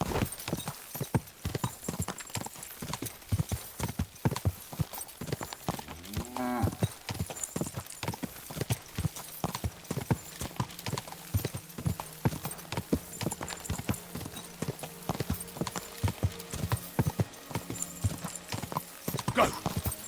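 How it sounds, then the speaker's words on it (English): Horse hooves clip-clopping in a steady walking rhythm, close and distinct, with a brief whinny partway through and faint talk in the background. "Easy, good horse."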